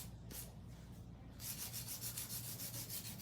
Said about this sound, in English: Let's do a little bit of hand filing here.